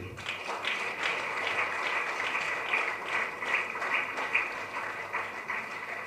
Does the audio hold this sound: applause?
yes